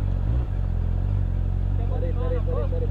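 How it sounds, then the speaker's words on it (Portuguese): Motorcycles ride past on a city street, a mid-pitched engine drone with a rising rev toward the end, as a voice talks close by. "Agora é só moto, mano."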